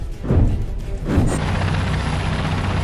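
A helicopter in a film, a loud dense rotor and engine roar with two heavy thumping swells early on, then a sustained steady drone.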